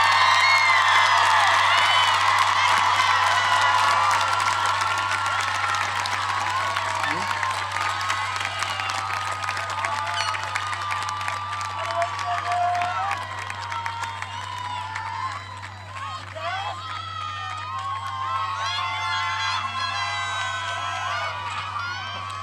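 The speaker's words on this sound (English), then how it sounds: "let's give our class of 2022 one more hand of applause." A crowd at a high school graduation ceremony claps and cheers loudly throughout, with scattered whoops and shouts rising over a constant low hum.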